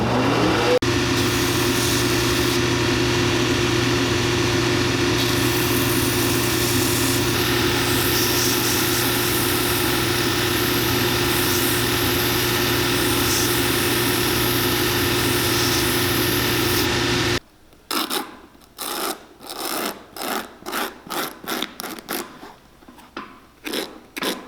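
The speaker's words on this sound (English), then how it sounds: "So let's get over to the sander." A sander grinding a stacked leather shank cover for a cowboy boot runs as a loud, steady whir for about seventeen seconds, then cuts out into a string of short, sharp bursts.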